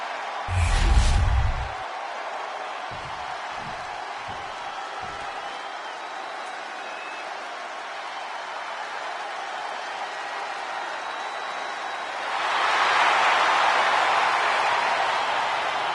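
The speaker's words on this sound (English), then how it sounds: "the roar of the crowd tells you all you need to know" A wrestling arena crowd roars and cheers for LA Knight, a broad wash of noise that stays steady throughout and swells louder near the end, with a few booming thumps early on.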